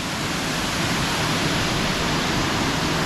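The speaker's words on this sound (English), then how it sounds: "you can see the water is really coming down hard and fast" Fast floodwater in a river at a waterfall campground rushes in a steady, dense roar, loud and close, with no breaks and no voices over it.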